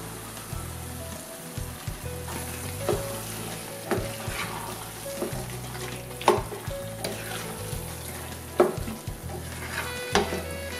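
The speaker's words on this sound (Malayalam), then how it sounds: "ഇനി ഇതിലേക്ക് നമ്മൾ നേരത്തെ എടുത്തു വെച്ച ആ തേങ്ങാപ്പാലൊന്നും ഒഴിച്ചു കൊടുക്കാം" Chicken cooking in a pan for Thalassery-style chicken biryani as coconut milk goes in, giving a continuous bubbling sizzle with intermittent metallic spoon clinks and scrapes, close and steady throughout, no voices.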